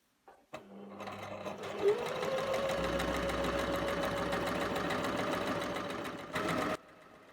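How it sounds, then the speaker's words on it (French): A sewing machine fitted with a blind hem foot topstitches button plackets close to a folded edge, starting with a click, then running at a steady rapid pace for several seconds before stopping. "Piquez les pattes de boutonnage, toujours en utilisant le pied pour ourlet invisible, pour piquer bien près du bord du pli."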